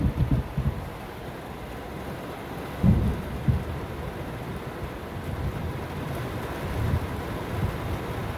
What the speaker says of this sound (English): Yeah, that was lightning.